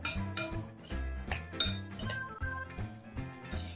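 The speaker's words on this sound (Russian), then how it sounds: "И все это перемешиваем. Ребята, все перемешивают." Spoons scraping and clinking against bowls as children stir a breakfast mix of sugar and raisins, in quick repeated metallic taps and scrapes, close and busy, with no talk.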